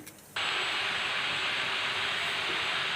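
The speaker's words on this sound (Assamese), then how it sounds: "এতিয়া মই আদা নহৰু পেষ্টখিনি দি দিছোঁ, এইখিনি আকৌ অলপ ভাজি ল'ম।" A loud, steady sizzling hiss that switches on abruptly after a brief quiet moment as ginger-garlic paste hits hot oil in a pan, continuing without pause.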